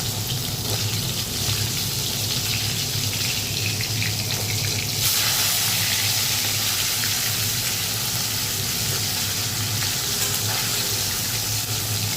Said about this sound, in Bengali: চারটে মাছ করছি, তো 3টে ভেজেছি, আর একটা ভেজে নিচ্ছি।